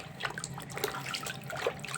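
Clean water rinsing cleanser off feet in a home foot-care routine, a faint close trickle and light splashing with small drips, no voices.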